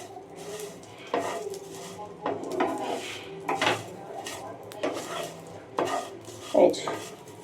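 Fried vermicelli going into boiled milk in a home kitchen pot, with scraping metal utensil clinks and stirring knocks in irregular bursts, close and fairly quiet.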